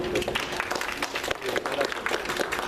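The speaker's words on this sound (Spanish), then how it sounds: "Por favor, un aplauso para él." Applause from a seminar audience at a customs management event in Spanish, a dense steady patter of clapping filling the room, with some voices mixed in.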